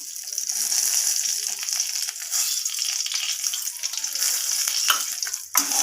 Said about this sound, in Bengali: ফোড়নটা একটু ভাজা ভাজা হয়ে এসছে